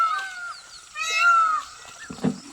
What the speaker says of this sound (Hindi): इस साइड आपने सुना अभी कि मोर भी म्याऊं म्याऊं कर रहे हैं